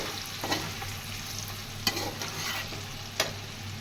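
Chopped onions fry in a pan while being stirred until lightly browned, a low steady sizzle with occasional sharper scraping stirs.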